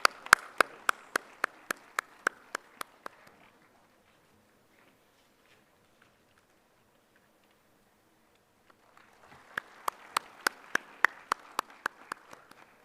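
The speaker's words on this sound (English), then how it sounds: "A big round of applause for our guest of honor" Guests at a BBA orientation program in Bengaluru clap for the guest of honor: a few sharp, evenly spaced claps in a steady beat, then a lull of near silence, then another rhythmic burst of clapping.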